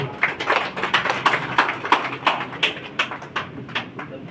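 Audience clapping at a public meeting with a district collector, heard as a steady run of separate, fairly faint claps in a loose rhythm, with no clear talk over it.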